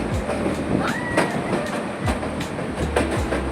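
A passenger train rolls through the Sakleshpur Ghat section, heard from on board with steady wheel rumble, rhythmic clickety-clack over rail joints and brief wheel squeals.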